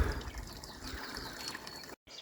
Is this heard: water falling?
yes